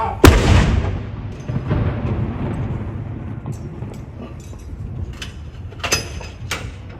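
A single Royal Artillery saluting gun fires at Edinburgh Castle for the King's birthday: one loud, sharp blast followed by a long rolling rumble that slowly fades, with faint sharp sounds late on.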